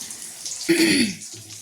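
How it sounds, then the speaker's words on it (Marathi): Water pours and splashes briefly as boiled corn is drained, a short gush close by lasting about half a second amid quiet background. "इकडं आमच्या दिदूबाईची मका मस्त उकडलेली आहे, ती साईडला गाळून घ्यायची पाण्यात, मस्तपैकी पाण्यातनं काढून घ्यायची तिला."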